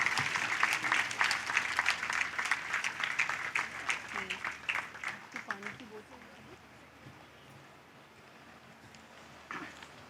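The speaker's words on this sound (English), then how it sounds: "In a big round of applause" Audience applause at a literary festival closing ceremony in Pakistan, a dense round of clapping that is loud at first and thins out after about six seconds, leaving faint room noise and a brief murmur near the end.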